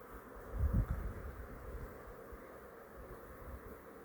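Steady, low buzzing hum of bees, continuous and fairly faint, with a brief louder thump near the start.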